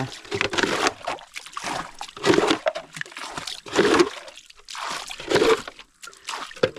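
Water is scooped and tossed out of a boat on the Krishna River in repeated rhythmic splashes, a scoop every second or so, close and sloshing.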